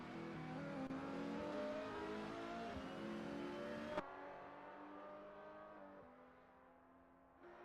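Racing cars in a Nürburgring 24-hour esports race video game, a steady engine drone with layered tones that drops to a lower pitch partway through, then shifts again near the end.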